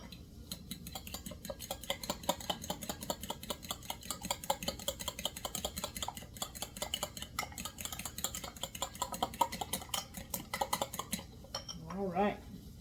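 A spoon stirs squash casserole in a pot on the stovetop, giving soft rapid scraping and clinking in a steady rhythm, close and fairly quiet, with no voices.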